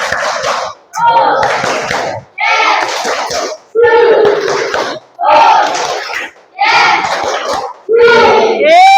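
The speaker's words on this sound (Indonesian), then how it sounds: "Tepuk 1 2 3 2 kali." A classroom of students claps in rhythm on command, with seven tight bursts of group clapping separated by short pauses, loud and close, with children's voices mixed in.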